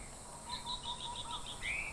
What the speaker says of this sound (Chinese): 这几种鸟在叫